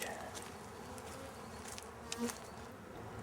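A steady buzzing of honey bees fills the clip, a dense close hum with no talking.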